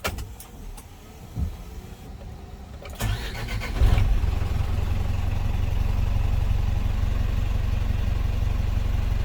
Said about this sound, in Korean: 주행거리 대비 엔진 소리도 양호하다고 생각을 하고